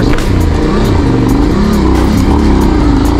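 A Yamaha Ténéré 700 adventure motorcycle on an off-road trail, its engine held on the throttle: a loud, close, steady rev whose pitch wavers up and down as the bike pushes through rough ground, with wind buffeting the microphone.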